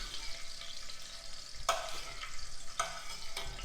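Sausage renders its fat in a hot pan with smoked paprika for caldo verde, a steady close sizzle and frying crackle broken by a few sharp scraping stirs, with no voices.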